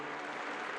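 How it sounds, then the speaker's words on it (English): Graduation commencement audience applauding board members as a group, a dense, even wash of clapping that fills the short moment without any voices. "I invite them to stand, and as I call their names, and we will applaud them as a group."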